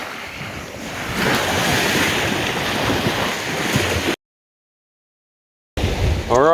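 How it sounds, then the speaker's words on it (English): Ocean waves rolling in on the tide at a remote Queensland island shore, a loud continuous wash of surf with wind buffeting the microphone, cut by a brief silent dropout near the end. "There we go, there's the waves."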